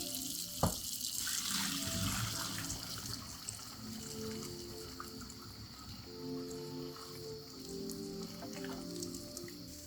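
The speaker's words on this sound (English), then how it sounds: "we're going to drain the pasta and run it under warm water." Warm tap water runs steadily over drained udon pasta in a sink, a soft, constant splashing rush with one brief knock near the start, heard close but at low volume.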